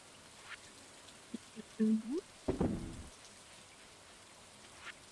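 Steady soft rainfall in the video game Stardew Valley, a faint continuous patter beneath brief game sound effects and a short burst of louder noise midway.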